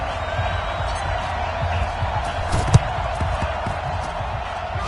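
Stadium crowd in Madden NFL 20 at a Baltimore Ravens versus San Francisco 49ers game gives a broad, continuous roar with a sharp thud partway through, under a commentator's voice.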